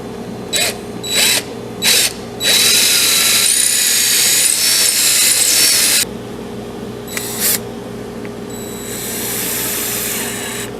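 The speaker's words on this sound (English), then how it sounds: "all I'm going to do is put a drill bit through there" A power drill whines in several short bursts, then runs steadily for a few seconds while boring a hole through the wood of a stool, followed by scattered shorter bursts and fading noise.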